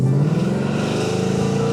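A car exhaust drones loudly and close as the engine revs, holding a steady rumbling tone with a slight pitch rise over a brief stretch.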